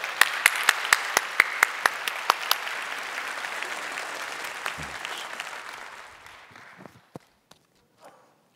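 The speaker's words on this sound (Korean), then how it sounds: "우리 박수로 맞이해 주시기 바랍니다" A church congregation claps to welcome a speaker to the front, a burst of dense applause with a few sharp, distinct claps that thins out and fades to scattered last claps.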